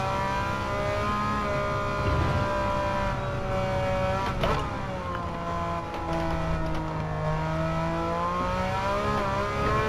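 Race car in Gran Turismo 7 accelerating hard at full throttle, a loud continuous engine whine that dips briefly around a shift or lift mid-way, then climbs in pitch again.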